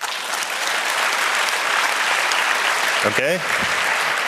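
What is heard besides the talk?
audience applause voting at physics talk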